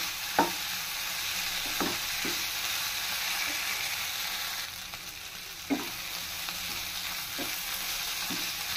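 Vegetables for a vegetable roll filling stirred and mixed in a pan, with sharp spoon scrapes and knocks at irregular intervals over a low, steady frying sizzle, close and alone.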